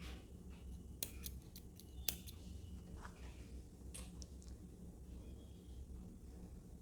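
Scissors snip through knitting yarn while a thumb sock for a woman is being made, a few sharp close clicks and snips clustered early, then quiet handling.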